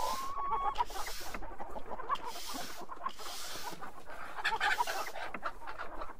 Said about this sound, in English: Well, at least the chickens are happy.